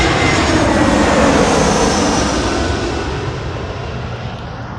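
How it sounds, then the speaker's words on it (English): A Delta Air Lines Airbus A321 arriving from Atlanta at Los Angeles International Airport roars past with a loud, steady jet-engine rush that slowly fades as the aircraft moves away. "Now we have our A321."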